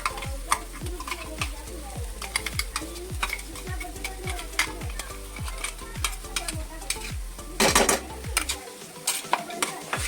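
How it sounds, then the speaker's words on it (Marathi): Ginger garlic paste with chili fries in oil over sautéed onion for pav bhaji, giving a steady close sizzle. A spoon scrapes the pan in a regular rhythm, with a brief loud clatter near the end. "हे पण मस्त छान अशी परतून घ्यायचं आले लसूण पेस्ट तेलामध्ये."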